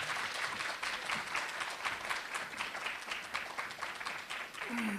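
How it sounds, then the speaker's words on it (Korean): An audience applauds to welcome a professor giving a special lecture at a university entrance ceremony, with steady, dense clapping from a crowd filling the hall for several seconds. "뜨거운 박수 보내주시기 바랍니다."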